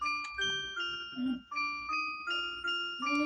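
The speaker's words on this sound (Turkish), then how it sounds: "O zıplatan kızın sesi geliyor." Jump-rope girl character's tune in the Baldi's Basics game, a music-box-like melody of bright repeating chime notes in a steady rhythm, clear and alone with no talk.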